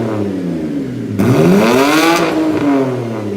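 A BMW N52 naturally aspirated inline-six engine revs up loudly from idle, rising to a single sweeping peak and falling back, close and alone with no talk.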